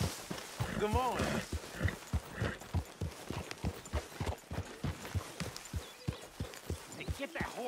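Steady clip-clopping of horse hooves, a regular rhythm of hollow knocks close by, with people talking over it.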